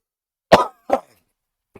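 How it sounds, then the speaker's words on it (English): A person coughs twice in quick succession, sharp and close, followed after a pause by a faint brief third cough; no other sound between. "Can't even get angry without coughing more"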